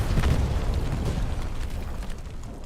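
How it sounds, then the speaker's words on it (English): A large, sustained explosion booms through a Hell Let Loose match on Omaha Beach, a loud rumbling roar with no talk over it. "Something blows up."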